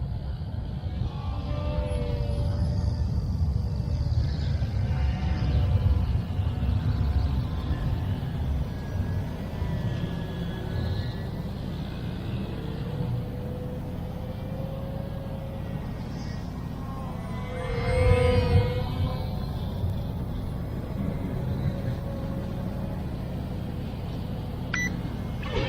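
A WLtoys XK X450 RC glider airplane flies with its motors running, giving a steady, moderately loud whirring drone that swells and fades slightly as it passes, with a brief louder surge midway.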